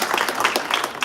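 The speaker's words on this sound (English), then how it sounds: "Let's give a round of applause to Vinny Alvarez." A crowd at a labor awards ceremony breaks into dense, loud applause, a continuous wash of many clapping hands.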